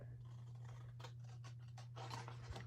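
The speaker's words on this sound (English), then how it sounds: "with the long pair of scissors, you can just kind of get one swipe there" Long scissors cut paper for papercraft May Day baskets and paper flowers, a few soft scraping snips close by against a steady low hum, with no talking.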